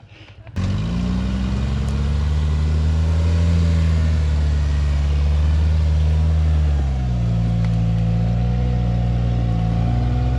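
A Toyota rock buggy's engine is held at full throttle, a loud, steady, close mechanical roar that starts abruptly, holds near constant, then dips slightly in pitch partway through without cutting out.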